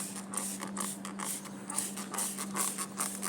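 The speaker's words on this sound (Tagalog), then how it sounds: "Yan, spray muna tayo." Battery-powered electric crop sprayer running in a field, a steady low motor hum under a rhythmic creaking, ratcheting mechanical sound and hissing spray, close and continuous.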